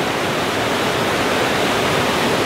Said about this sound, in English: beautiful natural waterfall.